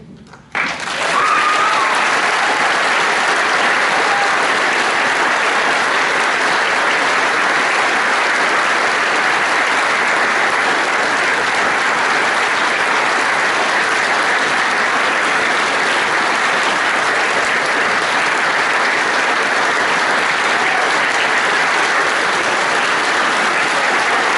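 Sustained applause from a graduation ceremony audience as Year 13 graduates leave the stage, a dense, steady wash of clapping that starts abruptly and holds at full strength throughout.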